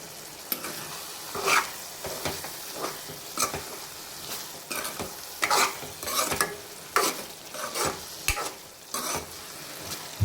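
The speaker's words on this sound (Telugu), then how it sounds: "దీన్ని ఇప్పుడు మంచిగా కలుపుకోవాలి" Spinach dal (palakura pappu) seasoned with chilli powder and salt is stirred in a pot, giving repeated scraping and stirring bursts with a soft sizzle underneath, close and fairly loud with short pauses between strokes.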